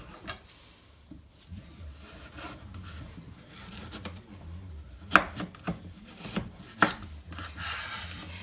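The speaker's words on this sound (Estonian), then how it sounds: "Seened on tükeldatud ja nüüd tuleb ära tükeldada sibul" A knife chops onion, garlic and carrot on a board in a kitchen, with scattered light taps and a few sharper cuts over a quiet background.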